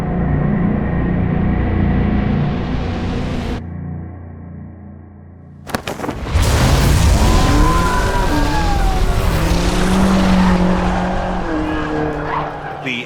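A roughly 6,000-pound BMW XM race car launches hard from the start line, its engine loud and close with tire squeal, then a brief lull before a roaring surge with rising, sweeping engine notes as it gathers speed.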